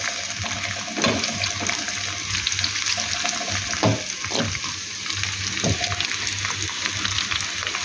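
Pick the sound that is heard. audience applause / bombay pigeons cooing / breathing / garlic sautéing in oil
garlic sautéing in oil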